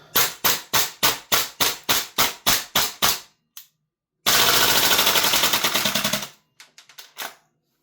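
Tokyo Marui Mark 18 airsoft gas blowback rifle firing BBs from a Strike Industries MWS magazine: about ten sharp, evenly spaced shots, then a longer continuous burst and a few scattered trailing pops, loud and close with no talking.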